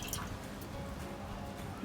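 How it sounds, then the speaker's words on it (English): Orange juice, half a cup, is poured into a pan of chicken being basted: a soft, steady liquid trickle with faint dripping and splashing, quiet and close, with no talk. "we're pouring in half cup of orange juice"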